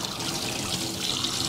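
Water runs from a tap in a steady, close splashing stream, the kind used for washing the face, filling the short moment evenly with no voices.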